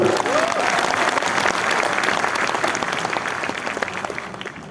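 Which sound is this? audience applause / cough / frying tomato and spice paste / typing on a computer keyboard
audience applause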